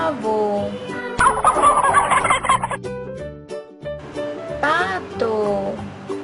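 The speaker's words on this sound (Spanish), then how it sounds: "Pavo." A farm turkey gobbles in a warbling burst set against a bed of children's music, with a second gobbling flourish coming later; nearby and loud, no talking.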